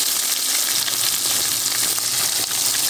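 Food sizzles steadily in a frying pan, a dense continuous crackle of hot oil that stays loud and even throughout with no voices.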